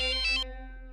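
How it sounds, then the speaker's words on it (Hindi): A phone rings with a short electronic ringtone in a home on a morning, a call coming in from the office; three quick pulsing tones sound, then a steady tone fades out. Nobody speaks over it. "मार्फतिया का फोन आ गया ऑफिस से"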